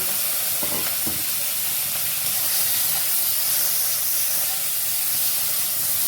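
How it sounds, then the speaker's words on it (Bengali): Shrimp seasoned with salt and turmeric fry in hot oil with a loud, dense, continuous sizzle and hiss from start to finish, plus a couple of faint clinks early on. "নুন হলুদ দেওয়া চিংড়ি মাছগুলো এবার আমি দিয়ে দিই"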